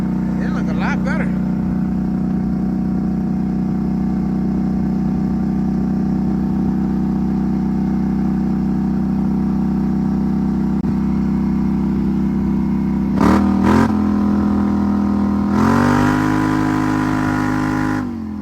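Polaris Sportsman 850/1000 Highlifter ATV engine running steadily with a low drone, wheels spinning, and brief revs rising near the end; someone talks over it.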